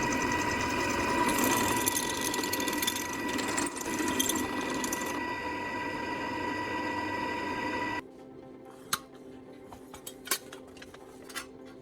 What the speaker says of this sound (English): I'm continuing to drill through the marked holes with a drill press.